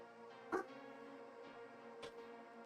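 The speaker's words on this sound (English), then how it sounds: "Yes, that's a dog. My dog's going crazy right now." A dog barks twice, a sharp bark near the start and a second, fainter bark about a second and a half later, over a steady low background hum.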